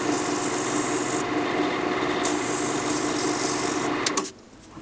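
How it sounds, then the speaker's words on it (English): Sandpaper rubs against an apple wood lidded pot spinning on a lathe, a steady broadband hiss over the motor's hum for about four seconds, then the sanding stops and only the quieter lathe remains. "So I'm going to try sandpaper first."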